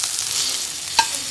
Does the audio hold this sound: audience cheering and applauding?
no